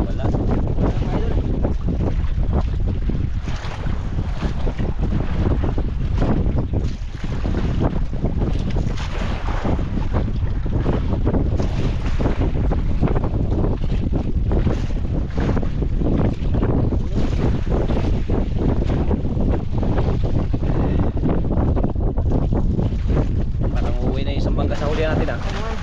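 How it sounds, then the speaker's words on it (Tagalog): Strong wind buffets the microphone on a small fishing boat at sea, with big waves rushing and slapping the hull in a constant loud roar; voices are faintly audible under the noise. "Malaki ang alon, nagsilaki na yung alon. Lakas ng hangin."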